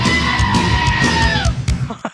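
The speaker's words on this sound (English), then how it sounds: "fucking screaming goat. The goat is awesome." A screaming goat sound effect lets out a loud, drawn-out human-like yell, wavering and sustained before cutting off abruptly into brief noise.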